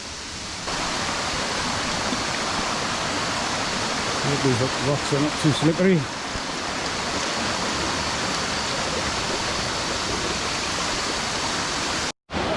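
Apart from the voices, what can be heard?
large waterfall on Koh Chang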